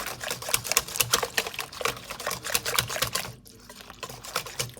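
A whisk stirring galette batter in a bowl, producing rapid, steady rhythmic clicking and wet tapping strokes that pause briefly near the end before resuming faintly.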